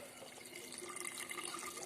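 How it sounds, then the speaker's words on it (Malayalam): Filtered water pours out through a drainage hose, a faint steady splashing trickle heard close by with no other sounds. "അപ്പോൾ നമ്മൾ ഈ വെള്ളം അങ്ങനെ അങ്ങോട്ട് കളഞ്ഞുകൊണ്ടിരിക്കുകയാണ്"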